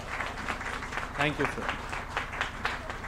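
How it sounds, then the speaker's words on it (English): Audience applause at a moot court prize distribution ceremony, steady clapping through the whole moment, with someone speaking briefly over it near the middle. "A big round of applause for Professor Khanna"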